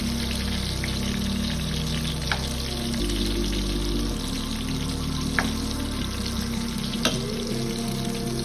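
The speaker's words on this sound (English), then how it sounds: "So when we get them to the brownness that we want, we're going to go ahead and remove the meat." Turkey necks browning in hot frying oil for a soul food dish, giving a steady, close sizzle and crackle that runs continuously with a few small pops and no talk.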